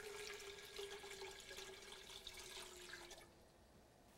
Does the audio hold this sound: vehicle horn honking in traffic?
no